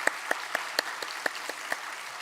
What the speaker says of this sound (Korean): 우리 박수로 격려 한번 할까요, 우리 신희 팀장님?